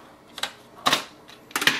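The rear panel of a Canon printer is opened while clearing a paper jam, giving a few short plastic clicks and snaps in quick succession, close and fairly loud.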